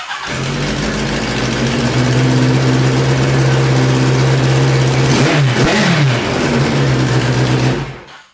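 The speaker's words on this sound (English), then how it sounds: "It starts up. It pops over. It has a fast idle." A 1983 Kawasaki GPZ1100 motorcycle engine catches and settles into a fast, steady idle, blipping up briefly before dropping back and cutting off.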